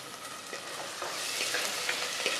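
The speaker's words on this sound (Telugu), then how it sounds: "ఉల్లిపాయ బ్రౌన్ కలర్ వచ్చేసింది" Onion browning in oil in a pan for a Telugu-style curry, giving a steady close sizzle with faint crackles and occasional stirring scrapes, no voices.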